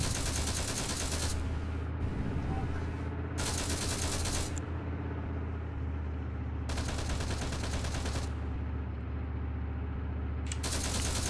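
Bursts of 7.62 machine gun fire from a tank's gunner position in the game Warlords Redux, loud rattling volleys broken by short pauses, with a steady engine and battle rumble running beneath.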